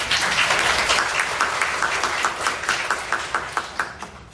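Audience applause at a Singapore business talk, a dense sustained burst of many hands clapping that gradually thins and tapers into separate claps toward the end.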